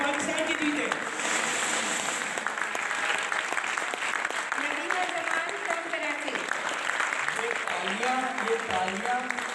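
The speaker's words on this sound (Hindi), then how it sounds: "ये तालियां उन तीनों बच्चों के लिए है जो कि इस स्टेज तक पहुंचे थे।" An audience claps for the finalists of a Pakistani school quiz competition, loud sustained applause filling the room while a host keeps speaking over it.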